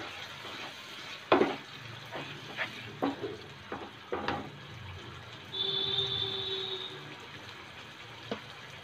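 Chicken liver with two teaspoons of chili powder and salt frying and being sautéed in a pan, a soft steady sizzle broken by several sharp scraping and stirring knocks, with no talking.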